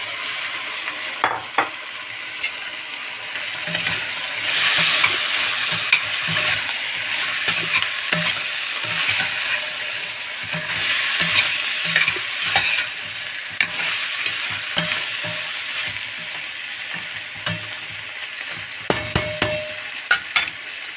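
Okra tossed into a pan with potatoes, carrots and onion, stirred as it fries: a steady sizzle with frequent scraping knocks of the spoon against the pan, continuous and close, no talking.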